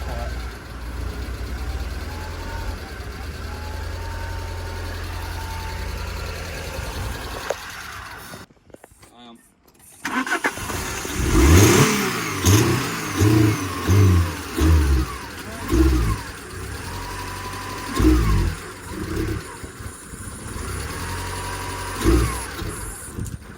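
An Alfa car engine sputters and stumbles from fuel starvation, surging in uneven bursts after a short silent gap, with voices talking over it.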